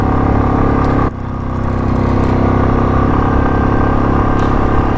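Royal Enfield motorcycle held at full throttle on a high mountain road toward Khardung La, a steady loud engine drone with wind rush that dips briefly near the start, then holds constant.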